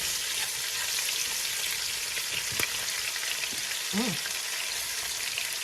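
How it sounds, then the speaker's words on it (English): Onions sautéing in a pan after ribeye steaks, a steady moderate sizzle throughout with a brief voice-like sound partway through. "So now we're going to saute our onions."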